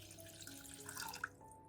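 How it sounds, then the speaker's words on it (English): Water pours from a tap into a pan, a soft continuous trickle with faint splashy bubbling, quiet and close, with a small clink near the end. "First, pour 300 milliliters of water into a pan."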